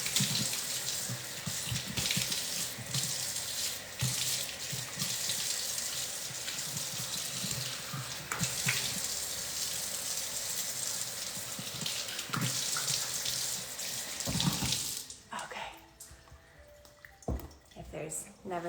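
Water runs steadily from a sink tap as someone rinses, a loud continuous splashing flow that stops near the end, followed by a few drips and small handling sounds.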